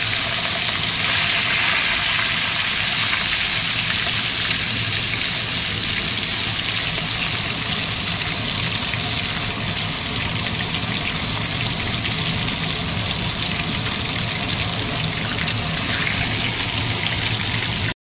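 Fish sizzling in hot oil in a home kitchen, a steady, even hiss and crackle that runs unbroken and fairly loud, with no talking.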